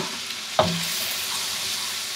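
Shrimp sizzle steadily in a hot pan while shrimp fried rice is being cooked, with a single sharp stir or scrape of the utensil near the start and no talking.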